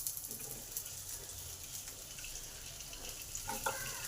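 Okra frying in a little oil in a pan, giving a steady soft sizzle throughout with a few light stirring clicks near the end.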